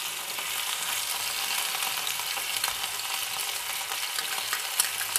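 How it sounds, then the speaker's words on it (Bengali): Tomato ketchup goes into frying Chicken 65 in a pan, setting off a steady, loud hissing sizzle with faint stirring scrapes throughout. "টমেটো কেচাপ অ্যাড করছি।"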